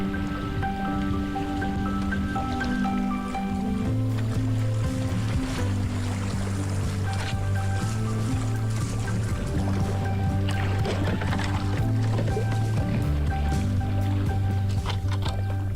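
Small boat moving through narrow, shallow water in the video game My Great Escape, with a steady wash and drip of water under a constant low engine-like hum and game music, no talk.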